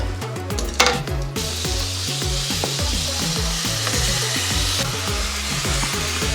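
Frozen beef chip steaks sizzle loudly in a hot pan, a steady broadband fry with rhythmic scraping and stirring knocks from forks or a utensil throughout, no voices.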